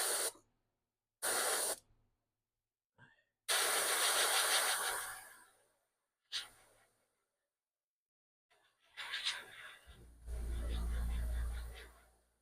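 An airbrush sprays paint onto a fishing bait through a soft scale-pattern stencil, giving several short close hissing bursts separated by pauses, the last one longer with a low rumble beneath.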